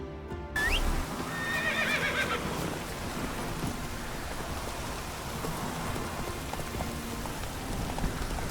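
Steady rain falls throughout a scene in The Witcher 3 video game, a constant soft patter, while a horse whinnies early on and hooves clip-clop faintly beneath the downpour.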